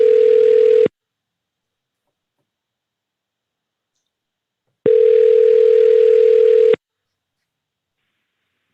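A telephone call ringing before reaching voicemail: a loud, steady ringback tone sounds once, breaks off into a long silence, then sounds again for about two seconds.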